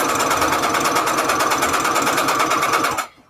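A sewing machine stitches through paper to make envelopes, running in a steady, loud, rapid whir for about three seconds before stopping abruptly at the end.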